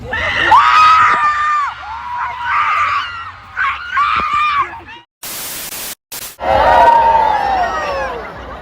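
A concert crowd of fans at a show screams and cheers in loud, rising waves, broken by bursts of static noise partway through before the screaming returns.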